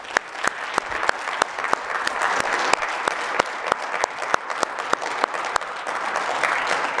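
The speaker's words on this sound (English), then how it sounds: "So we can give him a round of applause." An audience gives a round of applause at a coaching talk. Dense, sustained clapping runs throughout, with a few sharper individual claps standing out near the front.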